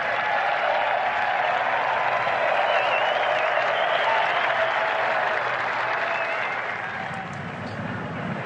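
Sustained applause from golf patrons at Amen Corner, Augusta, as Tiger walks to the 12th tee; a thick, even wash of clapping from a large outdoor gallery that continues steadily before easing slightly near the end.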